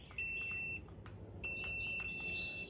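High, thin electronic beeps from a Fluffee RC09 dog training shock collar: two steady tones, one short and one longer after a pause, faint over background hiss.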